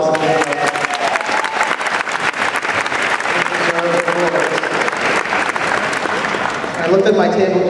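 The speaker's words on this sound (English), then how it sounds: "Give them a round of applause." Applause from an audience at a university graduation ceremony for honorees and award winners, a loud, steady wash of clapping with some crowd noise and voices mixed in, continuing throughout.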